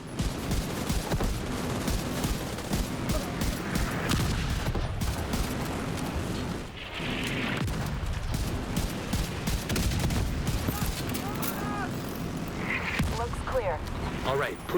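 Light machine gun fire in a first-person shooter game, sustained bursts of rapid shots layered with other combat noise and a voice talking over much of it.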